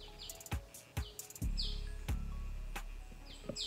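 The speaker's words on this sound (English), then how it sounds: "oh, I heard a bird." Short bright bird chirps repeat outdoors on a farm near bush, rising over a low steady hum and a few thumps, fairly clear and close with no talking.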